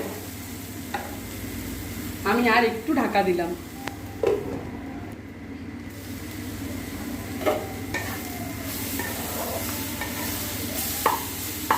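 Pieces of raw mango sizzle in a pan while being cooked down for a chutney, with a steady frying hiss, occasional stirring scrapes and clinks of utensils, and a person talking over the cooking.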